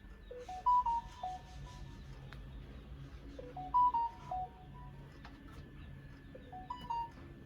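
A phone rings on a Jamaican film set with a repeating melodic electronic ringtone that comes in three short bursts at even intervals over a quiet room background.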